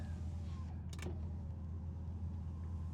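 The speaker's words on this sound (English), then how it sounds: "Power windows work as expected." Electric power windows on a black 2005 Pontiac GTO with the LS2 engine, heard from inside the car on a hot day with the air conditioning running: a steady motor whir under a constant low cabin hum, with a brief bump near the end of travel.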